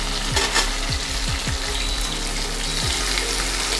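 Onions with curry leaves, coriander and slit green chillies sautéing in oil for a Tamil vada curry, a steady loud sizzle with several scraping stirs of a spoon in the pan, no talk.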